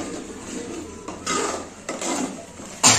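A spoon scrapes and stirs curry in a metal pan after chili powder is added, rough rasping strokes in a steady back-and-forth rhythm, close and moderately loud, ending with a sharper clank.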